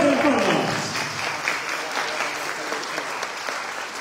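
An audience applauds steadily at an academic year inauguration in Chilca, with a voice speaking briefly at the start over the dense, sustained clapping.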